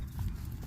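Hooves of an American quarter horse clip-clop on a farm, a few close, quick hoofbeats in an uneven walking rhythm with low rumbling in the background.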